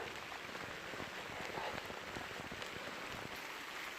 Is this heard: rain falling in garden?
yes